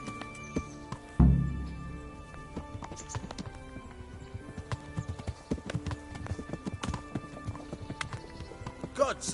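Horse hooves clip-clop at a gallop in the medieval game Kingdom Come: Deliverance, a steady rapid beat with a sharp thud near the start and a brief whinny, under background voices.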